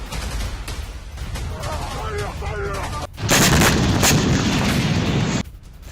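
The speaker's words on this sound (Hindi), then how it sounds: "दोनों तरफ से ताबड़तोड़ फायरिंग हुई है" Heavy gunfire and artillery in the Gaza war between Hamas fighters and Israeli soldiers: dense, sustained crackling volleys with booming impacts, growing louder and harsher midway before easing, with a voice faintly present underneath.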